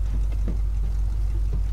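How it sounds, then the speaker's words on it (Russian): A car engine idles in the video game The Last of Us Part 1 as a steady, low, throbbing drone, heard briefly and alone at moderate loudness. "Элли, не глуши мотор."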